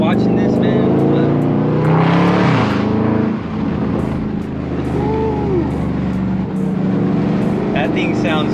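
A Dodge Charger 392 Scat Pack Widebody's V8 revs hard from inside the cabin, climbing to a loud snarling peak, then dropping and rising again through gear changes as someone talks over it.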